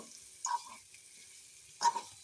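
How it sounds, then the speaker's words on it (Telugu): Paneer pieces fry in oil with a faint, steady sizzle, broken by two short, louder spatters near the start and end. "పన్నీర్ ముక్కలను ఒకసారి వేయించుకుందాం ఫ్రెండ్స్"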